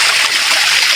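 Mountain stream water rushes and splashes loudly and close by as it is scooped up and splashed onto a face, a dense, continuous watery hiss.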